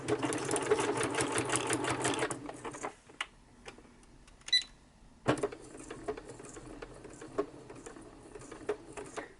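A home sewing machine runs in a steady, fast mechanical patter as it sews a locking stitch, pauses briefly with a few clicks, then starts again, close and clear with no talking.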